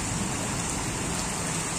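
Heavy rain pours down in Sylhet onto a flooded main road, making a dense, unbroken hiss at an even, loud level throughout.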